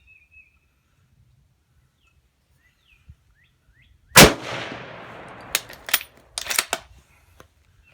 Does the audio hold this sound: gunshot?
yes